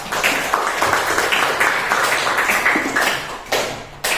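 Classroom applause for a student named Satya, a dense patter of hand claps from a small group filling the room steadily, close and fairly loud, ending with a few separate claps.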